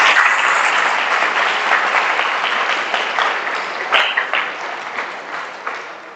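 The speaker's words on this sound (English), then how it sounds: "let's give a big hand of applause for those who are still standing" Dense, steady applause from a large audience at a talk on the art of balance, filling the whole stretch at a loud, even level with a few sharper claps standing out near the end.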